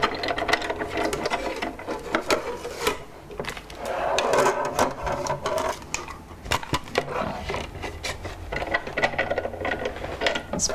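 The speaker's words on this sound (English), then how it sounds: "we'll put that through our machine and get the embossing done" A hand-cranked embossing machine pressing a card, steady ratcheting clicks and grinding gear noise running continuously at close range, with no talk.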